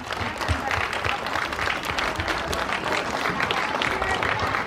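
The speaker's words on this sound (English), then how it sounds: "let's give a round of applause and a hand to all the sponsors" Outdoors at a youth fishing event, a crowd claps for the sponsors with dense, continuous applause. It stays loud and even for nearly five seconds, and some talk is faintly mixed in.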